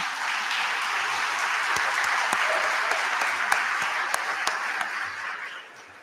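Steady applause from an audience at the Spork Off 2025 event, a dense wash of many hands clapping for several seconds, with a few sharper individual claps standing out before it fades slightly at the end.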